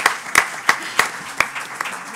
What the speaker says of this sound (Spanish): Antes damos un aplauso para calentar un poco.